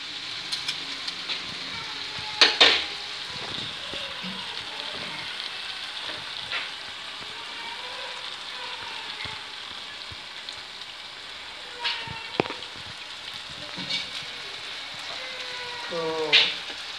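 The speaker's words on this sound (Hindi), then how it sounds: "थोड़ा सा घी कम लग रहा है मुझे, तो थोड़ा सा घी और डाल देते हैं।" Lahori chicken tawa pieces fry in ghee on a griddle with a continuous crackling sizzle, brief louder spatters and stirring scrapes, while a voice talks intermittently in the background.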